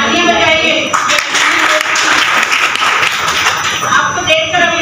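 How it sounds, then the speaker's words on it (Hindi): A meeting audience claps steadily and densely for several seconds, a sustained patter of many hands close by with a voice faintly underneath. "तालियां बजाइए"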